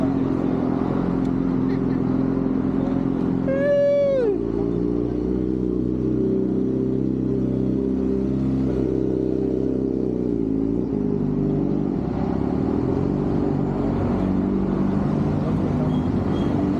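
Motorcycles ride past at a bikers family festival, engines droning steadily with swells and revving, plus a brief rising whine near the start; a busy, continuous outdoor roar with no clear talk.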